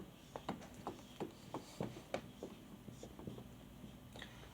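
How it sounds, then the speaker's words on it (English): A marker or chalk writes on a board in a quiet room, a run of short, light squeaks and taps in quick, uneven succession, faint and close by. "Let's write that up there."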